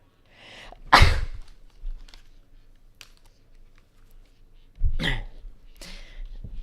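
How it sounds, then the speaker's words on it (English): A loud, sharp sneeze bursts out near the mic, followed by a second, slightly softer sneeze a few seconds later, with quiet room noise and faint clicks between. "You sneezed very loudly then."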